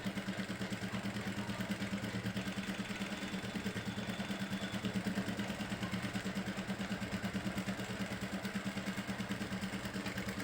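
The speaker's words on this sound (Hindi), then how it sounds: "कपड़े को रोक कर रखना है और मशीन आपको चलाते जाना है, क्योंकि पूरी पट्टी पे सिलाई लगानी होती है इसको।" A sewing machine runs steadily as it stitches a strip on a kurti, giving a quiet, fast, even mechanical pulse that continues without pause and without talk.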